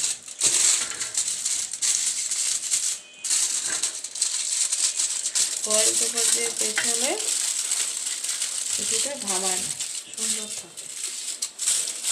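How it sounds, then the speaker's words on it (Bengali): Frozen paratha bread being stir-fried in a pan gives a loud, close, constant sizzle and crackle with stirring and crushing sounds, and a person talks over it at times. "এখন রুটিটাকে আমি কষিয়ে নেব ভালো করে"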